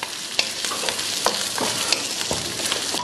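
Onion and capsicum are stirred and fried in a hot pan, giving a dense continuous sizzle punctuated by repeated quick spatula scrapes and taps, close and loud.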